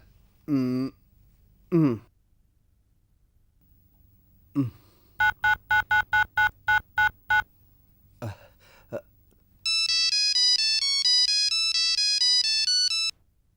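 A phone ringtone plays a bright, steady electronic melody near the end, after scattered beeps, tones and brief vocal sounds earlier.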